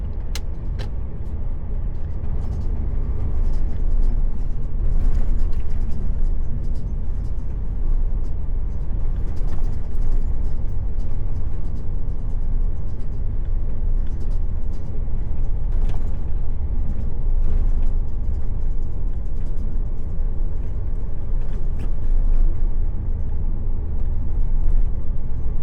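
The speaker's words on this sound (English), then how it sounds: "So quite a bit of driving today." A car drives steadily along the road, its engine and tyre rumble forming a continuous, loud, close drone for the whole stretch, with only faint brief talk.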